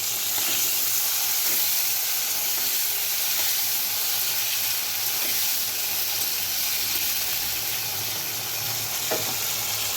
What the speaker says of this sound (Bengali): এখন খালি শুধু বেগুনটা ভেজে তুলে নেব।